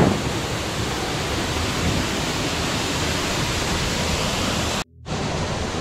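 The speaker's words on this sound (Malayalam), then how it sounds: "തൂമാനം വെള്ളച്ചാട്ടം." Thumanam waterfall near Vadakkanchery, a clear-water fall, gives a loud, close, continuous roar of rushing water that cuts out abruptly for a moment near the end, with no talking.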